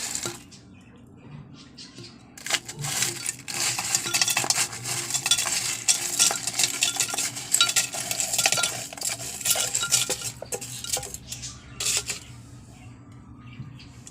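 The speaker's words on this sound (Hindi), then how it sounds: "बाग की बर्फ़ हम इसमें डाल देते हैं।" Ice is added to a strawberry lemon juice, with clinking, rattling impacts of cubes against a container and stirring clatter, busy and close for about ten seconds before easing off.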